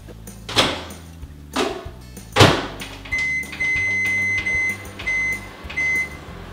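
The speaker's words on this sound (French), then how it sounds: "vous pouvez passer 4 minutes au micro-ondes les patates douces" A microwave oven cooks sweet potatoes in a kitchen, with several thuds of the door or handling, then a steady hum with repeated high beeps near the end, fairly close and with no voices.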